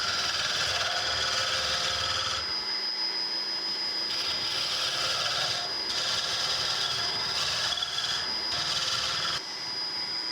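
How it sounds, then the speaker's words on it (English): A flat scraper tool shapes the taper of a new wooden chisel handle turning on a lathe, a continuous loud rasping scrape over a steady machine hum, with a short pause partway through. "Now I'm gonna come in here with a scraper tool that's flat, and we're just gonna kind of get that taper"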